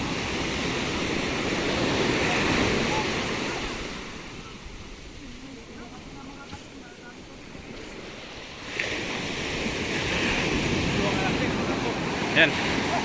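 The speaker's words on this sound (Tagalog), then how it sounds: "Medyo lalakas na mga kanter yung alon." Strong ocean waves break on a Philippine shore during traditional net fishing with a boat, a loud continuous roar of surf that swells, eases and surges again, with wind buffeting the microphone.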